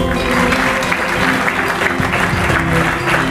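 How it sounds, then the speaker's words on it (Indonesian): Applause from a gathered audience at a village site, a steady dense clapping that fills the whole stretch at close range with a faint murmur of voices underneath. "tepuk tangan dulu lor"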